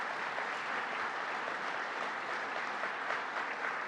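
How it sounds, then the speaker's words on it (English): A room full of people applauds company workers at a government briefing in Syracuse, New York, steady dense clapping filling the space evenly for several seconds without talk. "I want to give you a round of applause."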